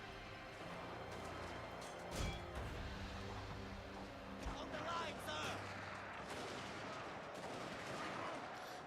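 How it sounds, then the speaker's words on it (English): Shogun 2 troops fire volleys in battle, a continuous crackle of musketry with a few louder cracks standing out over the din of combat and game music. "they shoot those guys instead"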